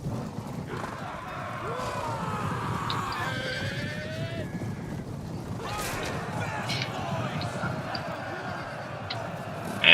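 In a video game battle, Elvish horsemen of Rivendell charge Easterlings on the plains of Mordor: several horses whinny with rising and falling cries over thudding hooves and a steady battle din, with shouting voices in the mix.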